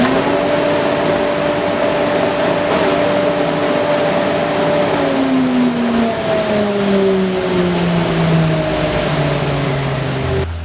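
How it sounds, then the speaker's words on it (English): A Felder AF-22 dust and chip extractor runs with a loud, continuous roar. Its motor tones slide gradually downward in pitch partway through. "Now, this is not a wimpy machine. It really puts out a lot of suction potential here."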